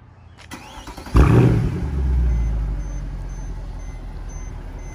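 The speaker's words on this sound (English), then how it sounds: "start her up. Let's hear this AMG in action." A Mercedes-AMG car engine starts up. After a faint click and a brief whirring crank, it fires with a loud, deep bark, then settles into a rumbling, steady idle heard close by, with no talking.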